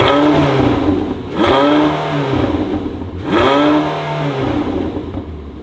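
A straight-piped Porsche 918 engine revs hard three times, each blip climbing to a loud rasping peak before falling back to a rumbling idle, close and with no talking.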